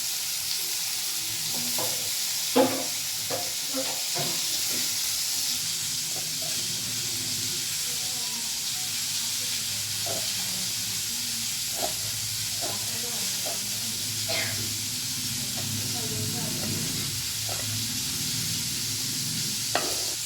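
Tomato and cucumber pieces sizzle steadily in a pan for cucumber chutney, a continuous frying hiss broken by scattered clinks and scrapes of stirring.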